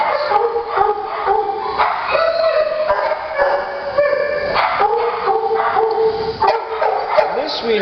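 A dog at a shelter adoption showcase barks and yips repeatedly, close and fairly loud, with whimpering mixed in over steady room noise and talk.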